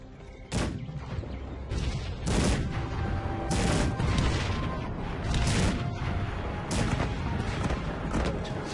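Cannon booms and gunfire shelling in the battle game Cossacks 3, a series of loud heavy blasts roughly every second over a steady rattle of musketry, continuous and close.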